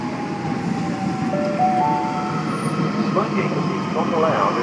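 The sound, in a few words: Sydney Trains M set train arriving at Bankstown station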